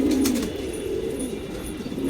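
Pigeons cooing close by, soft low throaty calls repeating over a steady background with a few faint chirps.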